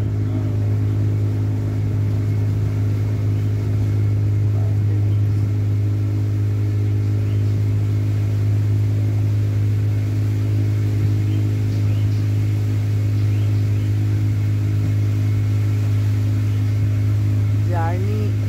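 A motor launch boat engine drones steadily while cruising through mangrove waterways near Pondicherry, a constant loud low rumble filling the whole stretch with no breaks.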